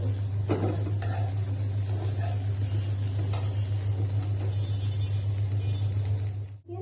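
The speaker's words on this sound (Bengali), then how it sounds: "এবার আমরা বয়েল ভেজিটেবলসগুলোকে দিয়ে দেব ভেজিটেবলসগুলো দেওয়ার পরে আমরা এটাকে পাঁচ থেকে ছয় মিনিট ফটে করে দিই" Boiled vegetables sautéed with chicken in a pan for sizzling pasta: a steady, close sizzle and stirring scrape over a constant low hum, with a few sharper utensil knocks near the start.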